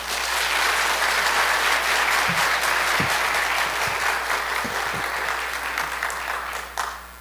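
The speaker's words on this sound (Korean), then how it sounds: "우리 목사님 나오실 때 우리 박수로 환영하겠습니다." A congregation at a Sunday morning church service applauds to welcome the pastor to the front. The clapping is dense and steady, filling the room for about seven seconds before thinning slightly at the end.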